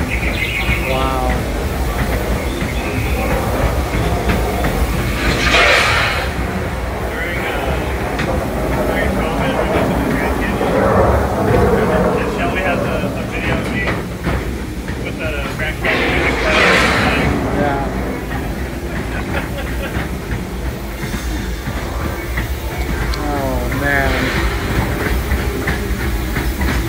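A Disneyland train rolling along its tracks, a steady rumbling run with clickety-clack under continuous talk and some birdsong nearby.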